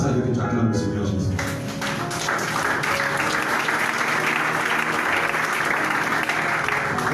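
A church congregation bursts into loud, sustained applause to acclaim the Lord Jesus, with many hands clapping steadily and voices in the crowd.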